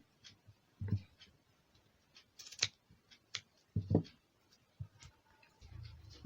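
Scissors snip fabric for a turban cap in a quiet room, a handful of soft, separate cuts and rustles with pauses between them.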